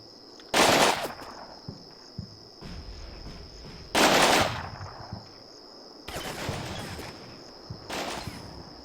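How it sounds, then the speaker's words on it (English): Machine gun fire rakes down a street in the war game Black Sea, heard as three loud sustained bursts of rapid shots, each trailing off into scattered crackle and distant battle noise. "he's shooting all the way down the street at something"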